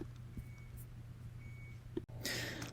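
A neighbor's device out in an apartment hallway gives faint electronic beeps, two thin tones spaced about a second apart. They sit under a low background hum and end with a brief clatter.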